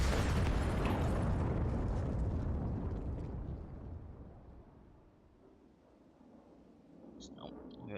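A loud, deep bomb explosion in the Counter-Strike video game booms out and its rumble decays slowly over several seconds, followed by faint, brief high tones.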